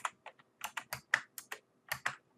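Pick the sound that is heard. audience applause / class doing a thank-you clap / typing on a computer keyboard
typing on a computer keyboard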